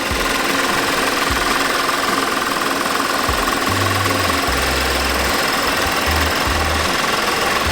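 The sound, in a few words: Audi A6 Quattro 3.2L engine running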